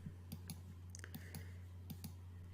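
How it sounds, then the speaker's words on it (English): Mouse clicks during digital painting, a run of sharp, faint ticks in an irregular rhythm, close and quiet over a steady low hum, with no voice. "here I'm just clicking and dragging"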